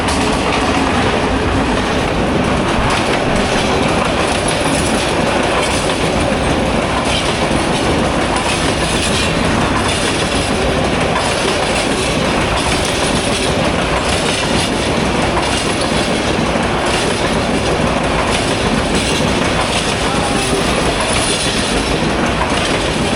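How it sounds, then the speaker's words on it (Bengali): The Kishoreganj Express passes through Bhairab Bazar station in a loud, continuous roar of wheels and carriages, with rhythmic clatter over the rails and squealing wheels running unbroken the whole way. "কিশোরগঞ্জ এক্সপ্রেস।"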